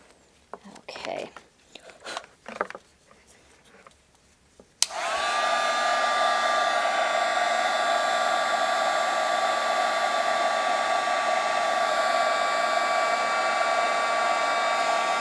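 An embossing heat tool blows a steady, loud whirring hum with a tonal whine, running continuously for about ten seconds after a few moments of quiet handling noises, while melting embossing powder on a Christmas card.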